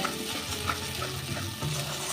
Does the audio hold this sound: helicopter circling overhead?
no